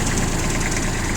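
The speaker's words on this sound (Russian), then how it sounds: "Под капотом у данного трактора трехцилиндровый дизельный двигатель. Двигатель Kubota." Kubota three-cylinder diesel idling in a Hinomoto CX16 four-wheel-drive mini tractor, a steady close knocking chug with even vibration, no talk.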